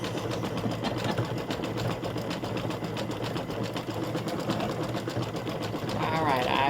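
Embroidery machine stitching a Thanksgiving gnome turkey design, a steady fast mechanical needle chatter running continuously throughout, with talk heard faintly over it.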